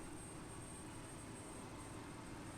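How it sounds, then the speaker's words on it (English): A fighter-type aircraft engine spooling up during engine start in a flight game, a steady loud broadband roar with a thin constant high whine, no talk. "I think you can hear the engine kind of starting up here."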